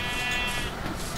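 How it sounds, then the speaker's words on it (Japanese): A sheep bleats in Minecraft on Nintendo Switch, a single wavering bleat heard against a dense, steady wash of game background noise. "さあ、お、羊さん。"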